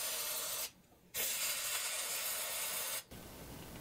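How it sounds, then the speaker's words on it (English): Electronics cleaner sprayed in two close bursts onto a Jeep Cherokee XJ instrument cluster, a steady loud hiss that breaks off briefly and then returns before stopping. "we hit it with the nice ice-cold electronics cleaner"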